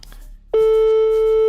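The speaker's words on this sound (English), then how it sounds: "I'm gonna try to call Eligio to see if he answers." A telephone call goes unanswered, a steady electronic tone with a brief busy-signal quality that starts abruptly after a short pause and holds loud and constant, close as if from a handset speaker.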